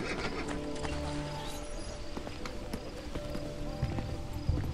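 Hooves of an armored horse clip-clop in Assassin's Creed Brotherhood, a quick irregular patter of impacts over busy game ambience, fairly faint and continuous.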